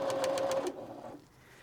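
A sewing machine stitches quilt binding in a short run of rapid, evenly spaced needle strokes, close and moderately loud, with a steady motor hum that stops partway through, leaving a quiet tail.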